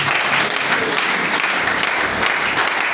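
A church congregation claps in steady, dense applause that fills the space for the whole stretch, loud and close, with no voices rising above it.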